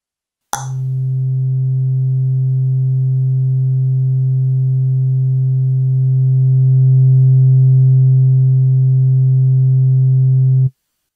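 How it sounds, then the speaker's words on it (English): A steady, pure electronic tone starts with a click and hums continuously at one low pitch for about ten seconds, then cuts off abruptly. "I will just do a click and you will hear a perfect tone"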